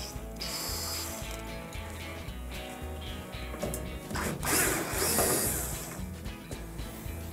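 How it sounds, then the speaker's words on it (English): Ratcheting screwdriver backing a Phillips screw out of a Fisher & Paykel washer panel, a continuous stream of close, fine clicking with a few small metallic clatters, no voices. "So Phillips screw that we'll remove over here."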